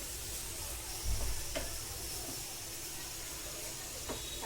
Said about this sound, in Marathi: आता यामध्ये मी भाजून घेतलेली मटकी घालून घेणार आहे व्यवस्थित मिक्स करून घेणार आहे